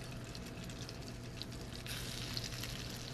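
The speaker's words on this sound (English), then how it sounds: "while the salmon is sautéing" Salmon fillets sautéing in butter and olive oil in a pan, giving a steady, close, crackling sizzle with light spattering pops throughout and no voices.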